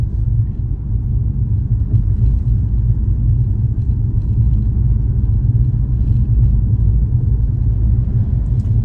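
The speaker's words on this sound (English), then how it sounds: "I'm just pottering, cruising behind that car there, doing 12 miles per hour" Low, steady road rumble from inside a Mercedes car cruising slowly at about 12 mph on adaptive cruise control, with a constant engine and tire drone and no voices.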